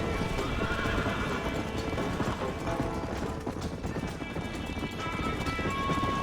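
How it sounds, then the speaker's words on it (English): Rapid rhythmic hoofbeats of a galloping horse with an occasional whinny in the video game Red Dead Redemption, loud and continuous over a dense layer of game noise. "This horse is so slow."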